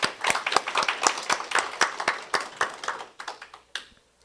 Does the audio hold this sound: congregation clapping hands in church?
yes